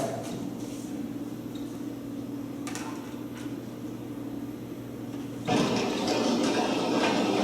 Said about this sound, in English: Do you hear that static?